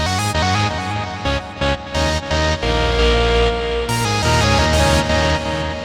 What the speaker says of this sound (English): And delay, it'll give you just kind of a few repeats.